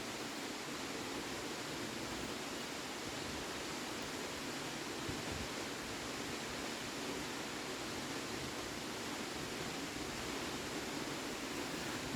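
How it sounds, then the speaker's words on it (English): A large waterfall with a 172-foot drop, the South Fall, roars as a steady, even hiss at moderate distance, unbroken and free of voices. "This is the biggest of the waterfalls behind me."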